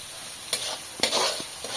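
Spice masala with potatoes fries in oil in a pan, a continuous sizzle punctuated by a few quick scraping stirs of a spatula.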